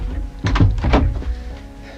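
A door in a house opens in a radio crime drama, heard as a pair of close, solid thunks and clunks from the handle and latch, followed by a softer knock, with no talk over it.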